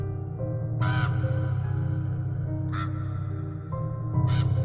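A raven gives three harsh, loud caws spaced a couple of seconds apart over a steady low hum and faint background tones.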